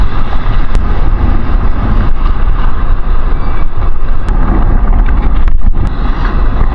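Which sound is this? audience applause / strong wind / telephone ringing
strong wind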